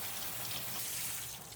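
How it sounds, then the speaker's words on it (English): Cold tap water runs steadily over tempeh in a strainer, a continuous close splashing rush with no talking. "I'm just gonna strain this tempeh. All right, and I'll just rinse it off."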